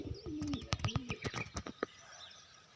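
Pigeons cooing at close range in a breeding loft, several soft low rolling coos with short chirps between them, fading to quiet room tone.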